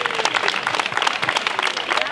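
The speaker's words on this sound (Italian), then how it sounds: "un applauso per loro." Dense, steady applause from an audience gathered outdoors for the inauguration of an inclusive swing in Magenta, following a music performance; the clapping is fairly loud and continuous, with voices mixed in underneath.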